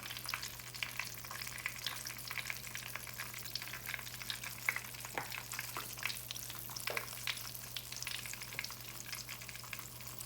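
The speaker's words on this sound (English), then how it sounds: "I'll fry a few of these tomatoes." Sliced green tomatoes fry in a hot skillet, giving a continuous soft sizzle with scattered crackles and pops over a faint steady hum, with no voices.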